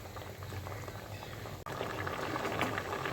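Potatoes boiling in a pot for a vegetarian dish, a close, continuous bubbling and churning of water with a brief break midway.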